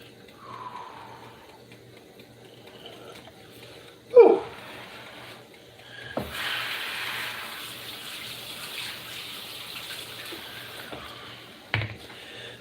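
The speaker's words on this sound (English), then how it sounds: "we're going to run a little bit of cold water over it because it's going to be hot" Cold tap water running over freshly boiled hot shrimp, a soft steady stream with occasional louder splashes and clunks, fairly quiet and close, with faint background noise and no clear talking.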